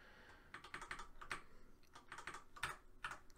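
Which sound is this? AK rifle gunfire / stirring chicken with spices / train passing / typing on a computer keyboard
typing on a computer keyboard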